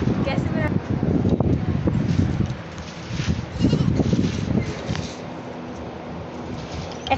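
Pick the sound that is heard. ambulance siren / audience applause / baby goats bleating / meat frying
baby goats bleating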